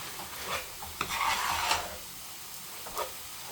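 Ground beef being broken up and stirred in a frying pan with onion, giving faint scraping and stirring scuffs over a low, steady sizzle, with a few slightly louder strokes.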